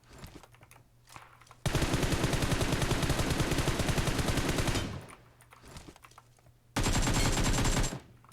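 Sustained automatic gunfire in a solo-versus-squad battle royale shooter, one long loud burst of about three seconds and then a second shorter burst, with quieter keyboard clicks and game ambience between them.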